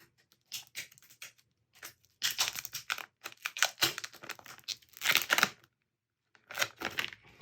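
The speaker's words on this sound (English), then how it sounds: "let's peel off this plastic" Protective plastic film peels off a Galaxy Z Flip 3 phone in a quiet room, with several short bursts of crinkling and tearing separated by brief silent gaps, close and fairly soft.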